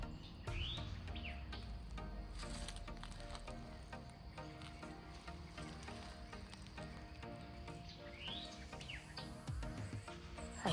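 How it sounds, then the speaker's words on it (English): Birds chirp and call repeatedly against a background of insect buzz, with short rising tweets scattered through the quiet outdoor ambience. "That's a bird."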